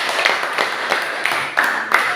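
A classroom of students claps together in a steady patter, fairly loud and close, with a few sharper accented claps standing out and little talking.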